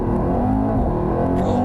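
A Mercedes-Benz car accelerates hard in Sport Plus mode, its engine roaring loud and close with a dense, rising growl, and crackling exhaust blowback pops near the end.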